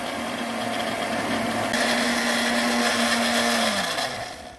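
Electric blender grinding ginkgo leaves with water, a loud steady motor whir with a sustained hum that climbs after a couple of seconds, then winds down near the end, with no voices.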